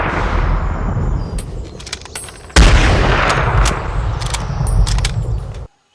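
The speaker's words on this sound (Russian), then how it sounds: "В этот момент прозвучали выстрелы." Gunshots during a boar hunt in brush, loud outdoor cracks over heavy wind noise, with a sharp blast near the middle and several further shots spread through the rest.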